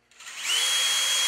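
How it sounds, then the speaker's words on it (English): A drill spins up and a sharp-pointed bit bites through thin steel, a bright, rising high-pitched grind that holds steady and loud at close range. "This really sharp point drills a lot nicer going through thin metal."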